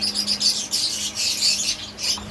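A breeding pair of ringneck parakeets kept as pets chirps continuously at close range, with rapid, overlapping high tweets and calls and a steady low hum underneath, and no talking.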